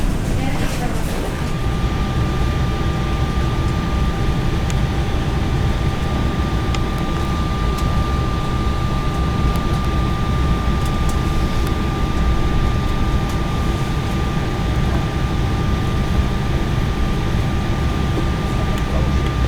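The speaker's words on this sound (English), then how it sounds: "that is my Embraer to Belfast, just parking up" A British Airways Embraer E190 regional jet parks up at Belfast City, heard as a steady broadband engine rumble and hum with a thin whining tone running throughout, continuous and fairly loud.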